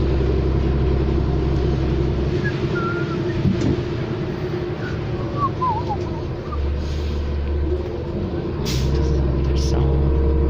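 A 2013 New Flyer XD40 city bus of ETS on route 4 Capilano, with a low engine rumble, the hiss of air brakes and shifting drive tones as it idles and pulls away, under people talking.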